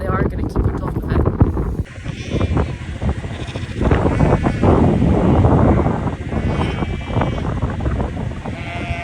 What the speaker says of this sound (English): it's a cold wind